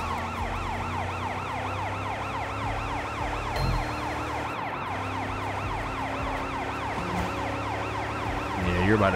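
Multiple police sirens wail in overlapping cycles in the Sleeping Dogs video game, layered over a low engine drone, loud and sustained with a brief thump partway through.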